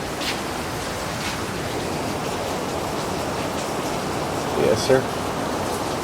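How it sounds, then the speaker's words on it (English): Heavy rain pours outside a garage, a dense steady hiss filling the background while someone speaks briefly over it. "It's raining like crazy out there."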